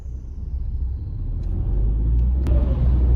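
A car drives along a road near Bansko, Bulgaria, heard from inside as a low continuous rumble that swells slightly louder toward the end, with no voices.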